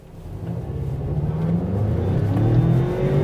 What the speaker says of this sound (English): Turbo lag, yeah, that's a turbo